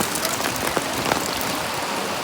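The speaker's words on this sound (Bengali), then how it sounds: "বৃষ্টিটা আরো জোরে নামলো, আরো জোরে।" Heavy rain pours down steadily on a mountain roadside stop on the route from Haridwar to Sonprayag, a dense, loud, unbroken hiss with no voices.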